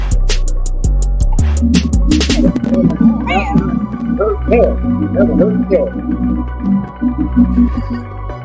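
A voice attempting a tiger imitation gives a few drawn-out, wavering cat-like meows over a steady low hum, close and fairly loud.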